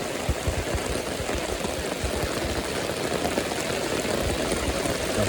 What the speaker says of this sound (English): Yes, it's really raining a lot.